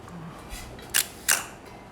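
A Kowa Kowaflex film camera with a Prominar 50mm f2 lens firing its shutter at 1/4 second: two crisp mechanical clicks about a third of a second apart, close and clear over a quiet room.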